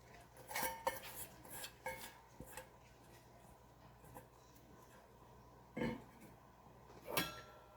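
Diced vegetables for borscht, potatoes, cabbage, beet greens and beets, are tipped into a soup pot with scattered clinks and clatters of metal and cookware, a few louder knocks standing out against a quiet kitchen background.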